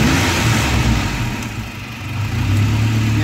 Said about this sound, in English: You just give it a bit of a rev.